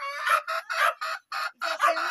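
A bantam hen clucks up close in a quick run of about eight loud, nasal calls with short pauses between them.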